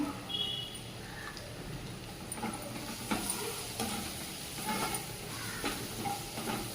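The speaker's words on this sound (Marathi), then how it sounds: "हे जे वाटण तयार करून घेतले ते टाकून घेत आहे हिरव्या मिरची अल्ला आणि लसूण कडी कढीपत्ता कोथंबीर याचा आणि चांगलं परतून घेऊया" A ground paste of green chili, ginger, garlic, curry leaves and coriander fries in a pan. It gives a soft, steady sizzle and hiss with faint stirring scrapes, fairly quiet and close, and no one speaks.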